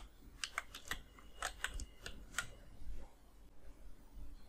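Fingers tap out a short run of keystrokes on a computer keyboard, close and quiet, in a few quick bursts of clicks with brief pauses and then a lull near the end.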